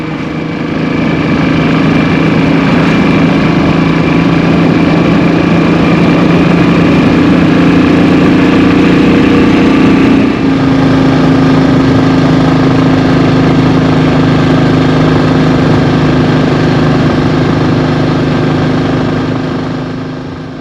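Royal Enfield Bullet 500 single-cylinder motorcycle engine running steadily at constant speed, a loud continuous throbbing drone with a slight shift in tone midway, close and alone without talk.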